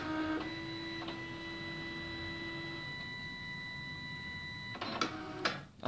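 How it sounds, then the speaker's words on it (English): A DTC1000 card printer initializing after a firmware upgrade whirs with a steady electronic hum and tones, then gives a couple of short mechanical clicks and clunks near the end. "the printer will initialize again"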